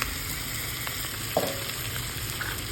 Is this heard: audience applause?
no